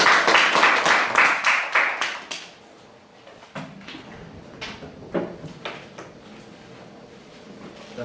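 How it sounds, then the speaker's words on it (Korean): A church audience gives a round of applause welcoming a pastor to the stage: dense clapping for about two and a half seconds that stops abruptly, then scattered taps and faint room noise. "나오실 때 박수를 맞이해 주시기 바랍니다."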